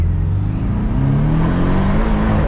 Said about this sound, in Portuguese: Acelera aí, ó. Ó, vou dar uma acelerada,